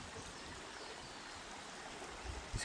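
Booloumba Creek, a flood-prone forest creek, flows steadily nearby with a soft, even rushing and gurgling of water, heard alone at low level.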